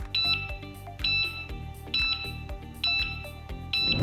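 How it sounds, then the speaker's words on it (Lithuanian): A repeating electronic beep sounds about once a second, a bright tonal chime over a low pulsing hum, moderately quiet and steady. "ant ekrano užsižiebia R raidelė ir pypsi signalas"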